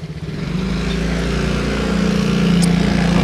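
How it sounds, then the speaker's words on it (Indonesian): On a narrow road in rainy weather, a motorcycle passes close by a car, its buzzing engine drone swelling steadily louder over a few seconds above the low hum of the car. "sama motor aja nih kita berpapasan"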